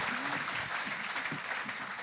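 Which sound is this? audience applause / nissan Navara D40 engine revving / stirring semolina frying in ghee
audience applause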